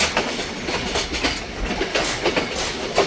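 An old train running along a railway near Anuradhapura, with steady clickety-clack of wheels over rail joints and a loud continuous rumble, close by and with no voices.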